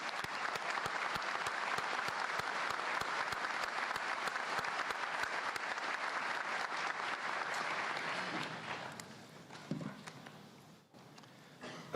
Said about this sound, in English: Graduates, please join me in thanking your faculty with a round of applause.